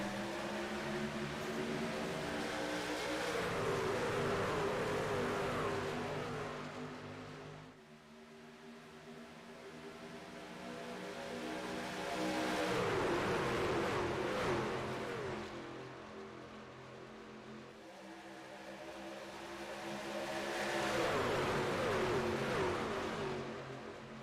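Race truck engines at Daytona in a video game, rising and falling in three long sweeping swells as the pack roars past, with steady high-pitched whine between surges.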